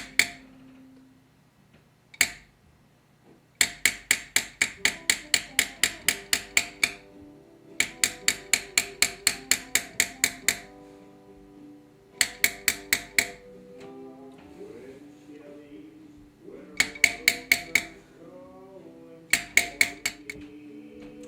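A leather beveling tool is struck repeatedly into leather, sharp close taps fired in rapid bursts of roughly ten strikes each, separated by short pauses.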